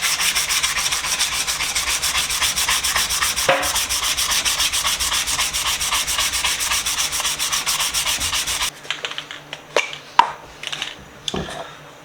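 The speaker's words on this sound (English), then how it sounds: "we're just going to start sanding with the 240." Steady, loud rasping of 240 grit sandpaper rubbed over an old Plumb tool during restoration, continuous strokes for most of the stretch, then breaking into short scattered scrapes and taps near the end.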